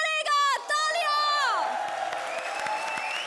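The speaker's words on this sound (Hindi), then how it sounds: "तालियां" A comedy-show studio audience bursts into applause and cheering, with whoops and shouts rising over the clapping before it settles into a steady, busier wash of applause.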